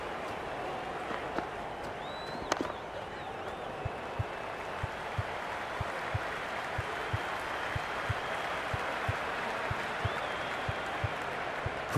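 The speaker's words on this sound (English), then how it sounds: "You can really feel the buzz around the spectator areas." Stadium crowd in a cricket video game, India vs England: a steady wash of applause and buzzing spectator noise with faint regular ticks, continuous and even throughout.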